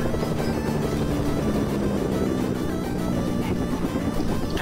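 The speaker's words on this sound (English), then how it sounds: "Oh, there's two helicopters around me." Two helicopters fly near the player in the video game Fortnite, giving a dense, continuous whirring roar that stays loud and steady throughout, with no pauses.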